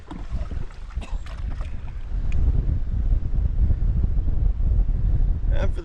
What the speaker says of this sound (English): We got a super strong tailwind behind us here.